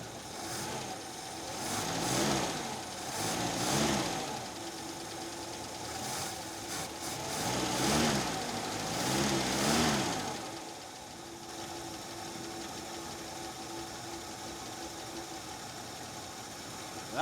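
Engine of a 1969 Ford Mustang, abandoned for 32 years, running and revving in repeated surges of rising and falling pitch, then settling into a steadier idle, close and moderately loud with no talk.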